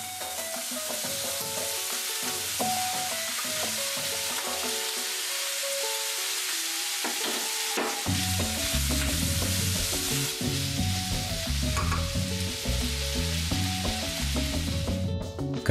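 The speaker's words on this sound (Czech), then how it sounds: "Na rozpálené pánvi nechám rozpustit sádlo a přidám tam tu pokrájenou krkovici, kterou lehce," Diced pork neck fries in melted lard in a hot pan, giving a steady sizzle that runs under upbeat background music throughout.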